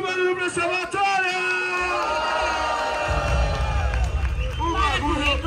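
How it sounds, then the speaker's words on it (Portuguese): At a street rap battle semifinal, Batalha Da Leste, the crowd breaks into loud cheering, shouting and whooping. The noise swells over the host's shouted voice and grows louder midway through. "Muito barulho pra essa batalha!"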